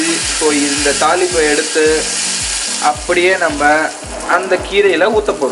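Steady hiss of mustard seeds and spices frying in hot ghee for tempering, with a voice talking over it throughout.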